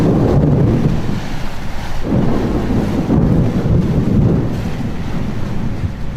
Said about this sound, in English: The wind was blowing too hard and the thunder was extremely violent.